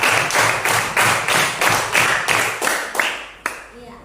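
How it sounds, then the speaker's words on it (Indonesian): A group of teachers in a coaching session clapping hands together in a rhythmic, patterned beat, loud and close, ending with a final sharp clap. "Tepuk tangan dulu."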